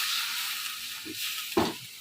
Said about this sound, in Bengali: পেঁয়াজ বাটাগুলো আমার ভাজা হোক।